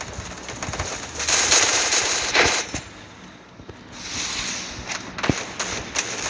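Video game gunfire crackles in short bursts and single shots against a noisy background, fairly loud and close, with a sharp crack near the end.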